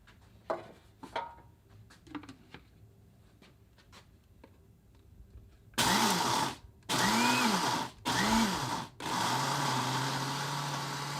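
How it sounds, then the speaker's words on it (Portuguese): Light clicks and handling noises, then a blender roars loudly in several bursts with short pauses, grinding eggshells into powder. "colocar no liquidificador e bater até transformar em pó"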